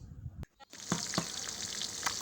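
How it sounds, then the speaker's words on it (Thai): Pork ribs fry in hot oil with a close, steady sizzle and crackle, broken by a brief dip before the bubbling resumes. "มาทอดกันดีกว่าครับทอดซี่โครงหมู"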